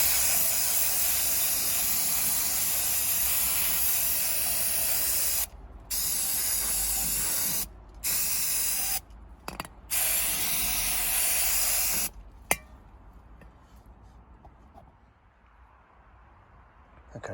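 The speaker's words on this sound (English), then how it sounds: "I'm going to give this a bit of a clean up now with some of this brake cleaner" Brake cleaner sprayed from an aerosol can onto a dismantled variable-geometry turbocharger: loud, close hissing bursts broken by short pauses, then a quieter stretch with faint handling noises.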